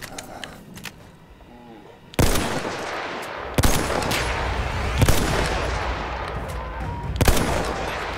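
Gunfire in the video game Battlefield 1: loud bursts of shots and sharp impacts start after a quiet opening and repeat across the rest, with dense overlapping blasts and a few strong peaks.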